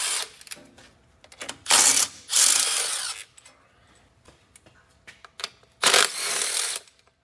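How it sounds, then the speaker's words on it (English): Transmission pan bolts on a Ford 10R80 ten-speed are backed out with a 13mm ratchet or power tool, loud close bursts of whirring rattle separated by quieter scattered clicks and handling noises, no talk. "we simply need to pull the pan bolts out"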